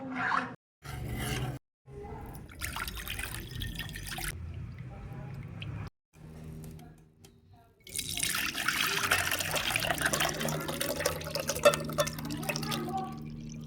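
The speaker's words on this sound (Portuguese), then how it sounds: "Eu passei uma água aqui, uma água quente para desinfetar" Hot tap water runs and splashes into a glass jar being rinsed to disinfect it before making homemade yogurt, with several bursts of flow broken by short pauses and a longer, louder stream at the end.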